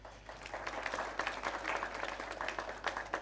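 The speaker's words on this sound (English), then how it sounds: "Can you just give yourself a round of applause?" An indoor audience at a schools quiz tournament claps in steady, dense applause lasting a few seconds, moderately loud and even, with no voices over it.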